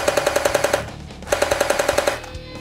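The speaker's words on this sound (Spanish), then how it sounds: "nada más chequen el sonido de la velocidad de su disparo" A Mini M4 hydrogel gel blaster fires two rapid full-auto bursts, each a tight string of about eight sharp, evenly spaced cracks, loud and close, with a short pause between the bursts.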